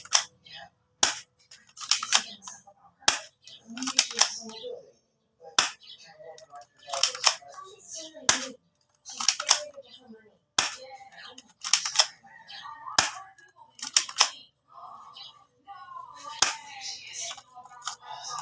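Sharp pops from a Double Eagle toy gun fire one after another at uneven intervals, with someone talking between the shots.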